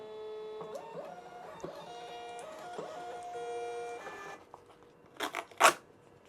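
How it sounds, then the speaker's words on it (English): A Dymo label printer whirs steadily for about four seconds as it feeds out a shipping label. A couple of sharp rustling clicks follow as the label is taken. "Now I'm going to print my label. I have my Dymo label printer right here. Hit print."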